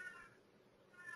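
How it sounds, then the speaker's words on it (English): A cat meows faintly in the background, a short soft call standing alone in an otherwise quiet room. "Sorry about my cat in the background."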